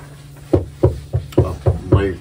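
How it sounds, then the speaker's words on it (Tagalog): Six firm, evenly spaced knocks sound on a door in a drama scene, close and loud, with nothing else heard. "May kumakatok."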